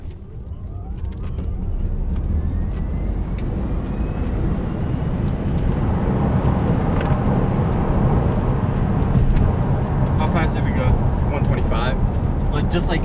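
A Tesla Model S Plaid electric car on a practice launch, heard from inside as a rising roar of wind and road noise with a faint climbing motor whine, loud and continuous.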